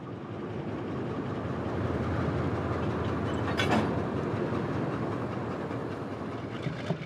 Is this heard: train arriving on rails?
yes